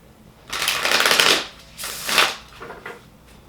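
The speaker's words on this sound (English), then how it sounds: "So I'm going to shuffle this a few times." Tarot cards are riffle-shuffled close by in two quick bursts, followed by a softer, shorter ruffle.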